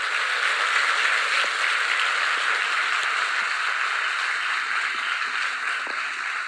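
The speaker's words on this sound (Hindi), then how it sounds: "आप सबके लिए गगनभेदी ताली बजाएं" Dense, thunderous applause from a large audience at an Amway business gathering for seated leaders, a steady unbroken roar of clapping sustained throughout.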